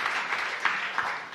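A congregation at a church service claps together; a short, soft burst of applause lasting just over a second, faint and distant-sounding.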